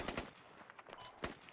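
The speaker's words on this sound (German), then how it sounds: "Oh, irgendwer schießt auf mich, irgendein Sniper." Gunfire in the military shooter video game Squad, several sharp, fairly faint shots at irregular intervals against quiet background noise, no talking.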